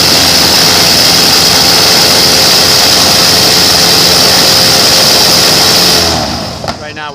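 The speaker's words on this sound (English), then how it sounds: "Right now we're seeing if we can get the RPM out of the motor, see if the blades are pitched too much or not enough." Airboat engine with its propeller spinning during a pitch and RPM load test, a loud, steady, broadband roar held for about six seconds before tapering off, with talk running underneath.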